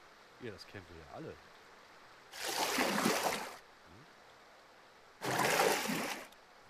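Falling water in the survival game 7 Days to Die comes as two separate bursts of splashing, rushing noise, each about a second long, with someone speaking briefly beforehand.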